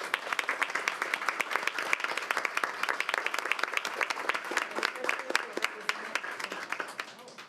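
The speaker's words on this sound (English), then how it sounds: "Let's give them a round of applause." Applause at a school board meeting, a sustained round of clapping from a room of people lasting throughout, with scattered voices and crowd noise underneath.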